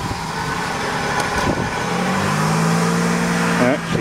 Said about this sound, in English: She's going into high idle. She's trying to idle high.